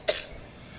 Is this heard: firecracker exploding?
no